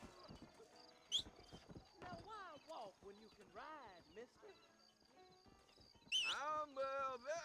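Horse hooves clip-clopping in the Red Dead Redemption video game, a steady near trot heard beneath speech and game dialogue, with a brief horse whinny.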